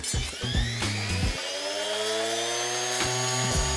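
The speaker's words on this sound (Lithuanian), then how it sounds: "Ir todėl mes turim čia žoliapjovės lygio peilį." Brush cutter fitted with a trimmer blade whines at high revs while cutting woody plants in a yard, close and loud, its pitch dipping and rising as the blade bites into stems.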